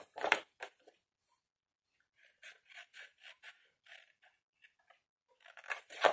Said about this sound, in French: Je sais pas pourquoi je prends des ciseaux.